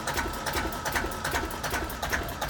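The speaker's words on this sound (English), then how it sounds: "and absolutely flat out at 950. I love it because it's a vintage diesel." Vintage diesel engine in a boat's engine room, running flat out at 950 rpm: a fast, even mechanical clatter with a rhythmic ticking, close and steady with no voices.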